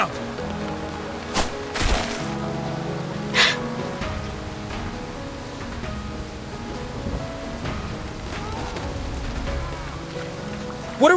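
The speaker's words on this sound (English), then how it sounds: "What kind of storm is this?" Storm rain falls in the video game Reverse 1999, a steady hiss of heavy rain lasting throughout, with a few louder splashing bursts and faint background music.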